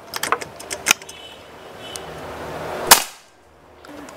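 A single sharp shot from a double-tank Black Army Viper PCP air rifle cracks near the end, preceded by light metallic clicks and handling noise, then quiet.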